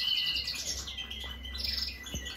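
Female European goldfinch building a nest, giving a run of high, bright chirps and twittering calls that come and go over steady low background noise, close by and moderately loud.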